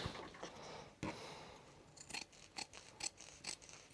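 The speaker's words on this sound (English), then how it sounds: "now I'm just going to go around and cut this out" Scissors cutting around fabric pieces for a sewn dragon tail, a series of close, quiet snips and crisp blade closes in irregular rhythm, about a dozen cuts over a soft background.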